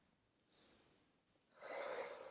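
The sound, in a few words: breathing in and out during a pelvis exercise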